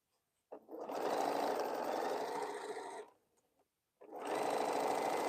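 A sewing machine stitches quilt blocks together in two close, steady whirring runs, the first about two and a half seconds long, then a short pause before it starts again.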